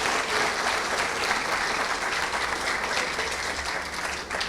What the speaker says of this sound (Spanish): Un fuerte aplauso para nuestro expositor,